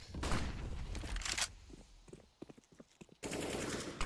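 An MP9 submachine gun fires in CS:GO during an ESL Pro League match: a loud rapid burst of automatic fire, then scattered single shots and thuds, then another sustained burst, all close and with no commentary.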